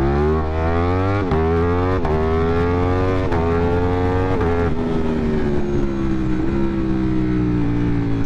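A 200+ HP motorcycle accelerating hard through the gears, its loud exhaust rising in pitch and dropping sharply at each of several quick upshifts, then pulling steadily higher.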